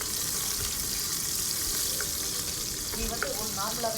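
Whole shallots and green chillies dropped into hot oil with spluttered mustard seeds in a pressure cooker, a steady close sizzle with light stirring scrapes and a few clicks.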